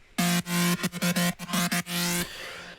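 A distorted saw synth lead for an EDC 2021 remake, bright and buzzy, playing a choppy rhythmic phrase of short and held notes, loud and alone with a trailing tail.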